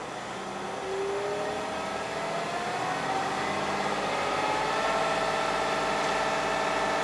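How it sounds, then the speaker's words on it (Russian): A Mercedes-Benz Actros truck's diesel engine rises from idle toward full revs, a steady mechanical hum whose pitch slowly climbs and grows a little louder, heard from the cab with no talking. "Кладем ногу на педаль газа, увеличиваем обороты."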